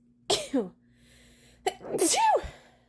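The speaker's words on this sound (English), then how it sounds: "I've been sneezing since yesterday" A person sneezes twice in quick succession, loud and close, with the second sneeze longer and more drawn out, separated by a brief quiet gap.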